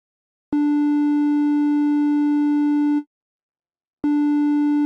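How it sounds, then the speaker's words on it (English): A steady synthesized triangle-wave tone, soft yet slightly buzzy, holds for about two and a half seconds, stops, then starts again after a brief silence. "Triangle waves are like a combination of the sine wave and the square wave."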